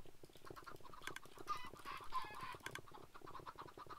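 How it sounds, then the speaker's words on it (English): Chickens in the video game Minecraft cluck in quick, overlapping bursts as a crowd of them is herded together, a busy cluster of short calls at moderate volume with no talk. "Get in there, chicken stampede!"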